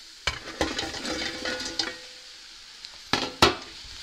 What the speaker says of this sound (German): Noch einmal kurz durchrühren.